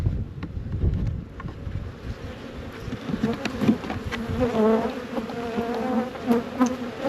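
Honey bees buzz steadily around a weak hive, a dense close swarm drone with individual bees whining past the microphone, touched by light wind noise.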